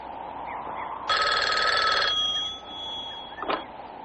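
A telephone bell rings once, a loud burst of about one second, during a phone line check, and a shorter faint chirp follows later over a quiet background hum.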